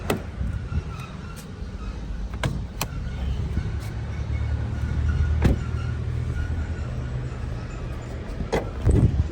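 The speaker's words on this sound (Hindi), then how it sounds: "आइए बोनेट खोलते हैं और देखते हैं पेट्रोल इंजन।" The bonnet of a 2022 Lexus UX petrol hybrid is opened in a showroom-like space, with a few faint clicks and thumps over a steady low background hum, and a louder latch clunk near the end.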